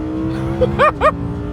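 An Audi sports car on a track revs hard from a standstill, a couple of sharp rising bursts over a steady drone, with a brief tyre chirp from wheelspin as it pulls away.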